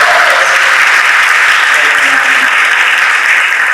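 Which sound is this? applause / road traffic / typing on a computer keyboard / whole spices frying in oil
applause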